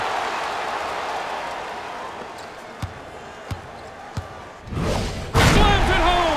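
A basketball slam dunk in NBA Jam On Fire Edition, Magic vs Wizards on Xbox Series X|S, as a loud thump with crowd noise swelling under ongoing arena ambience, following a few sharp ball bounces.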